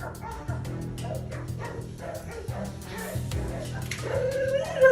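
Hunting dogs bark and yelp repeatedly during a wild boar hunt in dense brush, an overlapping run of yips and baying that grows louder toward the end.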